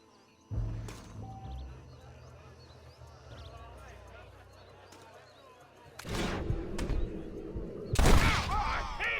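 Gunshots ring out in a Red Dead Redemption shootout: loud bursts near the middle and end of the stretch, among voices, hoofbeats and ambient western game sounds.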